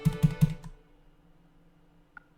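Three quick, close clacks of computer keys pressed one after another, then a short pause and a single faint tick.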